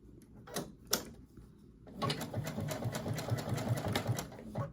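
A sewing machine stitches a narrow zigzag hem on a garment, running in a fast, even rhythmic chatter for about three seconds after a few soft handling clicks and bumps at the start.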